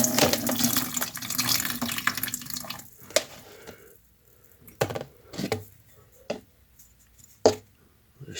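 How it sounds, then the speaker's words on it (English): Coca-Cola is poured out of a container holding rusty tools into a bucket: a steady splashing pour at first, then scattered drips and small splashes as the flow stops. "We'll pour it into this bucket so we can see what comes out."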